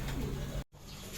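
A young racing pigeon arrives home from a long-distance derby race and coos close by. A brief soft coo is followed by a short gap and then more quiet cooing.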